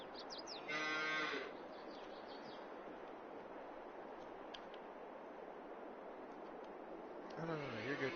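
Cattle mooing in a farming video game, with a long low moo near the start and another toward the end over a steady background of ambient game noise.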